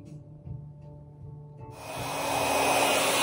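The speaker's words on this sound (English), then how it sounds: "you're going to go back to that hair dryer" A low hum gives way to a hair dryer switching on to dry a coffee filter craft, its loud, steady airy roar building and holding to the end.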